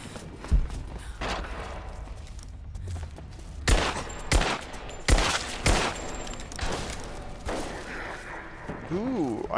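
Gunfire around Croft Manor in Tomb Raider Trilogy, Lara's Nightmare, comes as several sharp, separate shots spaced irregularly over nine seconds, with quieter game sounds between.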